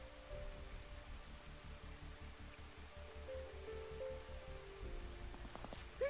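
Rain in the video game Tales of the Shire falls as a faint, soft, steady patter over a low ambient bed, with a short bright chime near the end.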